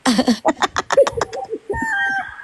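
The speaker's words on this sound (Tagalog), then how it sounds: "May polka dots. Dalmatian chicken." A white, polka-dotted chicken clucks in a rapid series of short, close notes, then lets out a longer drawn-out call at the end.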